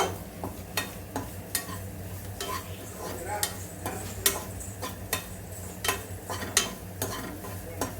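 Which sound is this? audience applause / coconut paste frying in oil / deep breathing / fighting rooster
coconut paste frying in oil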